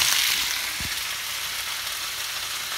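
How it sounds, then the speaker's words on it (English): Mixed vegetables sautéing in a pan with spices such as lemon pepper, garlic and salt, giving a steady close sizzle with a brief stir or scrape near the start, no voices. "Now saute all the vegetables, mix it with the spices nicely"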